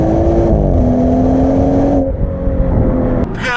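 A BMW 340i engine in sport mode revs up loudly, its pitch climbing then holding as it accelerates hard, close by, with no talking.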